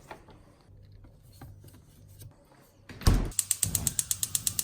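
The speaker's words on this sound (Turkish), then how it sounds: "Ocağın altını yakıyorum." A home gas stove burner is lit: quiet kitchen rustling gives way to a sharp ignition snap, followed by a rapid, regular train of loud igniter clicks.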